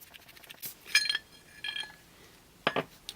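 Metal parts of a war-finish Abingdon No 765509 six-inch wrench clink and rattle as it is stripped down: a few sharp, ringing clinks in separate bursts, close and otherwise quiet.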